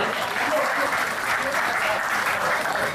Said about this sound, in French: merci d'applaudir très fort tous ces lauréats s'il vous plaît